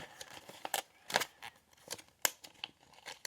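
Paper being folded and creased by hand for an origami Santa sled, a series of short crisp rustles and snaps with gaps between them, close and fairly quiet.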